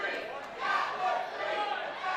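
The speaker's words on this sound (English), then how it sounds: "Crowd already chanting that was 3." A professional wrestling crowd chants rhythmically in an indoor arena, a steady mid-level roar of voices with swelling pulses across the short stretch.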